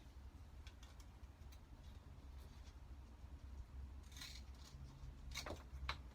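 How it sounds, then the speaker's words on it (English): Faint scissors snip a few times, soft crisp cuts scattered over a quiet background hum. "get my other pair of scissors"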